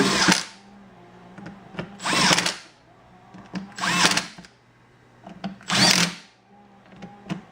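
Power drill or impact driver bolting parts down during a tire repair, four loud whirring bursts of about a second each separated by quiet pauses with small clicks and handling noise, close up and without speech.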